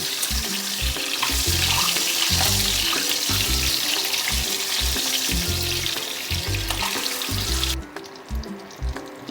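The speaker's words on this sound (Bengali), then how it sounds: "তেল গরম হয়ে গেছে তেলের মধ্যে আমি এবার ডিমগুলো দিয়ে দেবো চারটে ডিমকেই আমি ভালো করে একটু লাল করে ভেজে নেব" Four eggs fry in hot oil with a loud, steady sizzle and crackle that runs throughout, thinning out sharply near the end.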